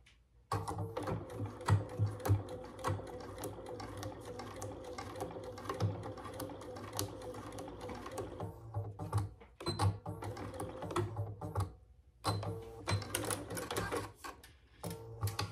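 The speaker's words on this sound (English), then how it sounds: "now we're going to fold those over and just top stitch" Sewing machine topstitching folded fabric an eighth of an inch from the edge for a small bag-hardware case, running in a continuous rapid whir with short pauses and restarts, close and clear.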